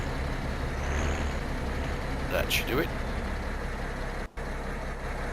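An MB Trac tractor engine idles in Farming Simulator 17, a steady low rumble under someone talking briefly, with a short hiss or clank and a sudden cut near the end.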